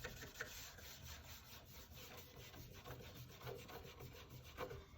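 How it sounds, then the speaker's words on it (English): Cloth rubbing black wax into the grooves and divots of wooden furniture, a steady close rasping scrub with repeated strokes throughout. "just rubbing the black wax"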